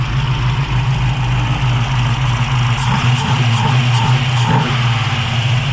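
A 1968 Camaro Z28 V8 fitted with Sniper EFI idles steadily with a deep, even rumble, close and loud. A few light blips or clicks come through midway, and no one speaks.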